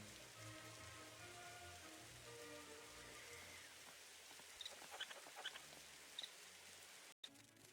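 Heavy rain pours steadily on a surface nearby, a dense continuous wash with scattered louder drips and small splashes, no talking, cutting out briefly near the end.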